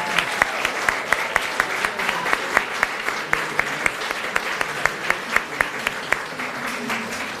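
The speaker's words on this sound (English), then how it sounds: "Can we begin with a round of applause right now for all of you for graduating?" A crowd at a university graduation ceremony applauds steadily, dense clapping filling the space with sharp individual claps popping out, sustained throughout at moderate volume.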